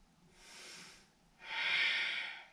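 Two slow breaths during a yoga flow, a soft inhale followed by a stronger, louder exhale through the nose, close and alone.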